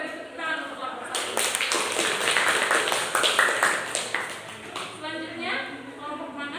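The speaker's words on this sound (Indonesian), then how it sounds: "kita beri tepuk tangan untuk kelompok 1" A school class applauds a student group, a burst of clapping from many hands lasting a few seconds, moderately close, with children's voices and speech around it before and after.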